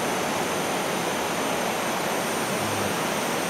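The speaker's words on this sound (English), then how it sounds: "that's the Mae Sa Waterfall" Mae Sa Waterfall in Chiang Mai's national park pours with a steady, broad rushing hiss, constant and fairly close, with no voices.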